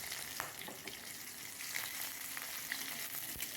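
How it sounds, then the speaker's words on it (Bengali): Fish fries in hot oil in a pan, giving a steady, dense sizzle with scattered pops and crackles throughout, close and moderately loud with no voices. "সেই জন্য মাছগুলো ভেজে নিচ্ছি"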